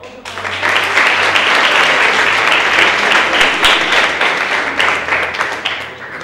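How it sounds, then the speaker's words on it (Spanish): An audience at a children's and youth literature conference in Extremadura applauds in a dense, sustained wash of clapping that stays loud for several seconds. "Así que le damos un aplauso."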